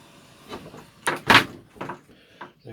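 A door swings shut with a couple of solid knocks and one loud thump, close by, in an otherwise quiet room with no talking.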